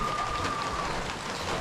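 Heavy rain pours steadily at close range, a dense continuous hiss with no voices.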